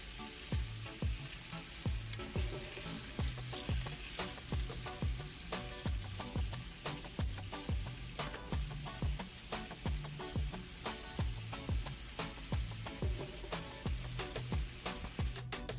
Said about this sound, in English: I am also sauteing or frying the vegetables a little bit